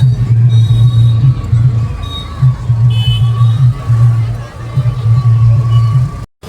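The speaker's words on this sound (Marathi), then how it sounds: "हे बघा किती जास्त गर्दी आहे." Dense crowd at a Nag Panchami village fair near a temple, with loud overlapping babble and a steady droning hum throughout, and traffic noise mixed into the close, busy scene.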